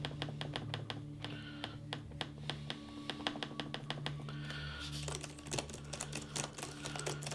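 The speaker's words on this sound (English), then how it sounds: "Keyboard is really clicky." Clicky keys on an MSI Titan GT77HX gaming laptop keyboard are typed in quick, irregular bursts of sharp close-up taps over a low background hum.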